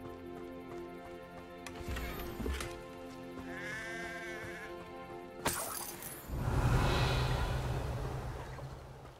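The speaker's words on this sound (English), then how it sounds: "Hey, sheep." In the video game Hogwarts Legacy, a sheep bleats once in a short wavering cry, set among game music and ambience, with a louder rushing swell of game sound following.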